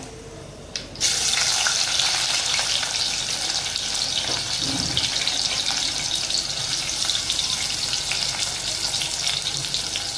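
Chopped onion drops into hot oil already crackling with mustard and cumin seeds for an Agri-style dry kantoli vegetable dish, the loud, steady sizzle and spatter starting suddenly and continuing close by.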